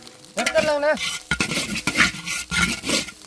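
Grated coconut roasting in a pan is stirred with a utensil, giving close scraping and light sizzling in uneven strokes, while a person talks over it.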